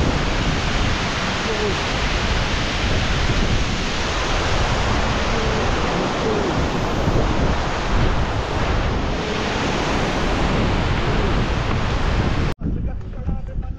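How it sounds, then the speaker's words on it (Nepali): Waterfall beside a suspension bridge on the Tilicho Lake trek in Manang, Nepal: a loud, continuous roar of falling water mixed with wind buffeting the microphone, cutting off abruptly near the end. "यहाँ यस्तो दामी मिठो झरना छ"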